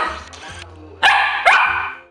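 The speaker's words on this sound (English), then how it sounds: "Farmers needed the Norwegian Lundehund." A Norwegian Lundehund barks three times, close and loud: a softer first bark, then two sharp, bright barks about half a second apart.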